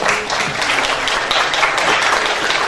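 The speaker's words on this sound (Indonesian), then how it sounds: "Aplaus buat beliau." A seminar audience applauds in a dense, steady wash of many hands clapping, loud and sustained throughout.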